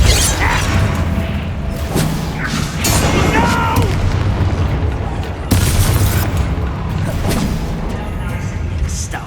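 Convulso spell explosions in Hogwarts Legacy on PS5, heavy booms punctuating a thick rumbling battle soundscape, with sharp blasts near two and five and a half seconds.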